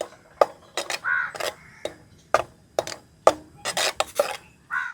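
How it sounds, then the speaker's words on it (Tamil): A utensil scrapes and knocks in short, irregular clinks against a pan as tomato jam is stirred, with sharp metallic taps separated by quiet gaps, close and moderately loud. "அப்படியே கிண்டி விட்டுகிட்டே இருக்கணும்"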